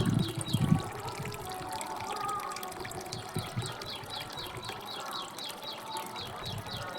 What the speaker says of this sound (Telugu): ఇదిగోండి, వాటర్ చూడండి ఎలా వస్తున్నాయో